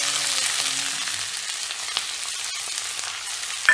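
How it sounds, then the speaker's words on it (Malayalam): Onion, ginger, garlic and curry leaves sizzle steadily in hot oil in a pan for a chicken curry, a loud continuous crackling hiss with no talking. "എണ്ണ ഒഴിച്ച് ചൂടായി കഴിഞ്ഞപ്പോൾ സവോള ഇട്ട് നോക്കിയിരുന്നു."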